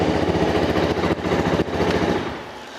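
A CFMOTO 250clc motorcycle engine running right after being started, a loud, close, steady single-cylinder idle with a fast even pulse that eases slightly toward the end.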